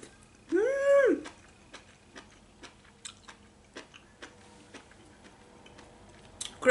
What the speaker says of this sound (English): Crunch, crunch, crunch.